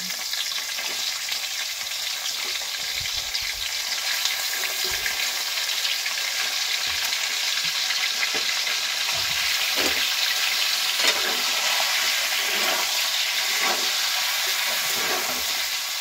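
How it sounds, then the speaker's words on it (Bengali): Chicken pieces fry in hot oil in a wok already used for frying potatoes, giving a steady hissing sizzle that stays even and fairly soft throughout, with occasional light stirring and no voices. "যে কড়াইয়ে আলু ভেজেছি সেই তেলের মধ্যে আমি চিকেনটাকে ভেজে নিচ্ছি"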